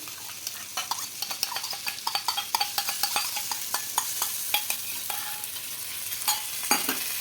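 Fried potatoes and tomato are stirred into spices in a pan for aloo dum, a vegetarian dish. A spoon clinks and scrapes in a quick, steady rhythm over a low sizzle, close and with no talk.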